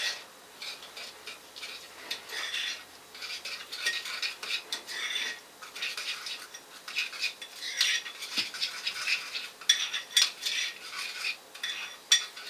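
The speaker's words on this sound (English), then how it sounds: "We're going to grab a spoon and just mix that all together." Spoon clinking and scraping against a bowl while low-carb keto cinnamon roll ingredients are mixed, with an irregular run of quick metallic taps and stirring scrapes, fairly close and moderately quiet, with no talking.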